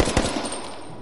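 Rapid gunfire from a pistol in the video game H1Z1, a quick burst of several sharp shots fading into a distant reverberant tail within about a second.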